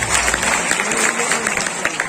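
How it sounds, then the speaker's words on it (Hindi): An audience at an honoring ceremony and Dussehra gathering applauds, dense continuous clapping filling the whole short stretch at fairly high level. "उनके हौसला अफजाई करने के लिए तालियां बजाएं।"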